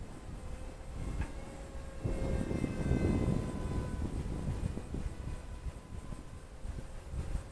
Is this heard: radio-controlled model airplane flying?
yes